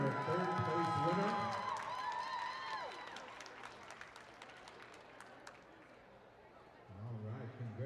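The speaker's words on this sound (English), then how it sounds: "Big round of applause right here, your third place winner." Crowd applause and scattered cheers for a third place winner at a powwow round dance, loud at first and then thinning out, with brief talk over it and a swell of clapping again near the end.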